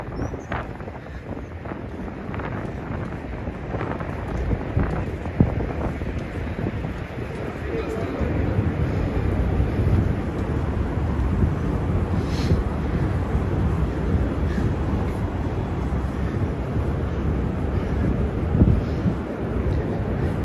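Gusty wind blowing outdoors on a Lower Manhattan street near the Brooklyn Bridge, a loud, sustained rumbling buffet on the microphone that strengthens partway through, mixed with faint city noise and occasional talking.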